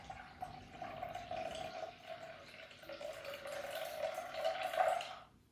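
Water trickles from a tap into a sourdough starter mix to top it up to 400 millilitres, a faint, quiet, steady filling sound that rises slightly in pitch and loudness before stopping.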